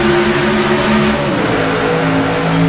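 A pack of race cars roars back to speed on a green-flag restart, engines loud and continuous with layered droning tones shifting as cars accelerate together near the track.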